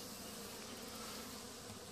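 Honeybees buzz inside a dark hive box, a steady dense droning hum with no pauses, close and even throughout.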